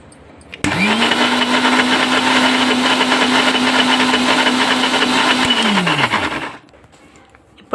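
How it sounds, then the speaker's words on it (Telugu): A kitchen mixer grinder whirs loudly for about six seconds while blending a mint and peanut chutney, its motor whine steady throughout before spinning down and stopping. "చూడండి, నేను ఇప్పుడు మిక్సీకి పడుతున్నాను"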